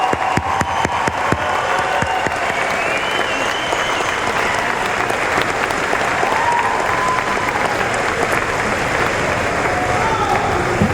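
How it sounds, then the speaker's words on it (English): Sustained applause from a large crowd at a graduation ceremony fills the whole stretch, loud and steady, with dense overlapping claps and a faint murmur of voices underneath. "Let's give another big round of applause to our graduates"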